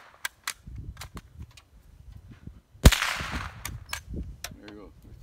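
An old firearm not shot in over 20 years goes off once, a single sharp loud report near the middle, surrounded by quiet outdoor handling noises and light clicks.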